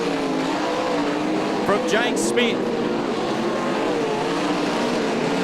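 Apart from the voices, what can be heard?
sprint cars racing on the speedway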